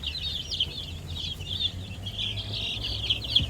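Week-old chicks peep continuously in a dense, high chorus, with a few lower clucks among them and a low hum underneath.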